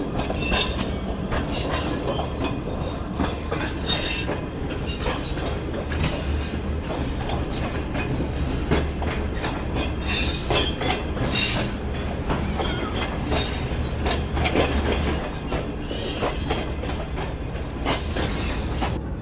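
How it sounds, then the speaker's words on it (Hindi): The Mohenjo Daro passenger train passes along the railway, with steady rumbling, rhythmic clickety-clack of wheels over rail joints and occasional high wheel squeals, heard close and continuous with no talk. "दिन में सिर्फ यहाँ से एक ही ट्रेन गुजरती है, मोइनजोदड़ो पैसेंजर ट्रेन"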